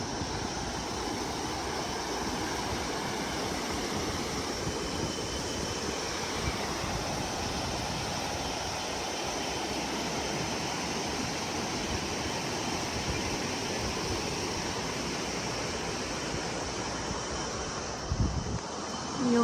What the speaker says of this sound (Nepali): यस्तो खोला रहेको छ छेउमा